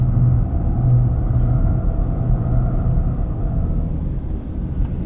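A 2019 BMW M2 Competition on the Sepang circuit gives a steady, loud engine rumble and road roar that holds throughout with little variation.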